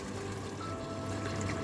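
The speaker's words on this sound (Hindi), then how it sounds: "अब इसमें हम 2 ग्लास पानी ऐड करते हैं।" Water poured from a glass into a cooking pot of frying meat for Afghan kachalo qorma, a soft continuous trickle over a low background hum.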